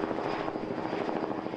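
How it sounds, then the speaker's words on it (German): Helicopter rotor and engine noise, steady and fairly loud, circling overhead above a hideout with no speech. "Hubschrauber kreisen bereits über dem Versteck."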